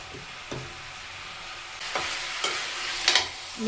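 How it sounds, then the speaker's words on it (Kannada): Salted chicken pieces for a native-style chicken curry fry in a pan. A faint, soft sizzle rises into a few sharper stirring scrapes toward the end. "ಇವಾಗ ಚಿಕನ್ನ ನೀರು ಬಿಡ್ಕೊಳ್ಳೋವರೆಗೂ ಫ್ರೈ ಮಾಡ್ಕೋಬೇಕು."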